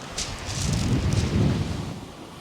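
Strong wind on Chesil Beach buffets the microphone with a low, rumbling roar that swells and fades in gusts, with a faint hiss of surf behind it.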